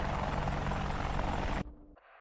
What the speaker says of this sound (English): Are you back in the chopper, I see?